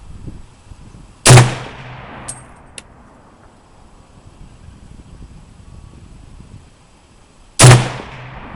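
Two loud, sharp gunshots from a BM 59 rifle, spaced several seconds apart, each followed by a brief echoing decay, with a faint metallic clink between them and no talking.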